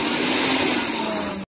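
A kitchen mixer grinder whirs loudly and steadily for a moment, then cuts off abruptly.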